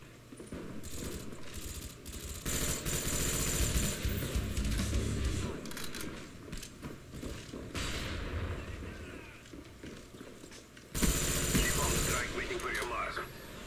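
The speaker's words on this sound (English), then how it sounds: "Good hip fire there" Hip-fire gunshots in the Black Ops first-person shooter, dense bursts of game gunfire with shifting battle noise, loudest in the middle and again near the end, while someone talks over much of it.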